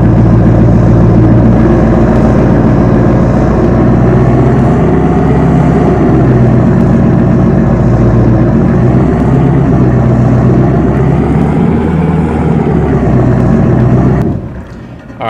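Loud semi truck engine idling and running steadily in Farm Simulator 22, a dense low rumble holding close and constant before cutting off near the end.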